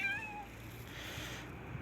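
A street cat gives a short, close meow at the start, then fades into low background noise.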